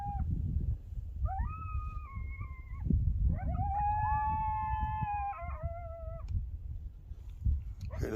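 Coyotes howl and yip together outdoors at night near a garden, several overlapping wavering calls rising and falling in two long bursts, moderately distant over a steady low rumble of background noise.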